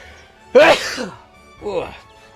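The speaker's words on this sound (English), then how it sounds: "Ah, sorry, I'm about to sneeze." A single sharp sneeze in Dragon Ball Z: Kakarot bursts out loud and close, followed by a short softer vocal exhale after a brief pause.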